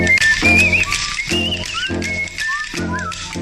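A man whistles a melody over a bouncy backing rhythm, with clear, wavering whistled notes in a steady tune.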